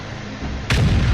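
A tank cannon fires once in World of Tanks, a sudden loud, close boom that cuts in after a low rumbling hum and rolls on without fading.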